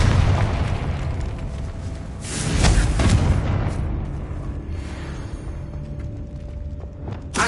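A Confringo blasting spell explodes in Hogwarts Legacy, a loud booming burst that swells to a peak and then rolls into a long, rumbling decay over steady background game ambience.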